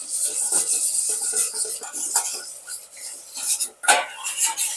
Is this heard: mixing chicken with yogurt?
yes